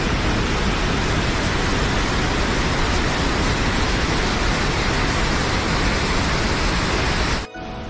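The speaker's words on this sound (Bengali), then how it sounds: "ইউ অক্ষরের প্রতিটা প্রান্ত থেকেই জল ঝরে পড়ছে। সব মিলিয়ে 15-20টা ধারা আছড়ে পড়ছে" A waterfall of 15 to 20 streams crashes down about 60 feet in a steady, dense roar with no breaks, until it cuts off sharply at the very end.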